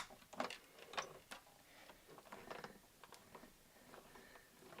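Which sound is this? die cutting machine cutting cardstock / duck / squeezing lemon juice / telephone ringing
die cutting machine cutting cardstock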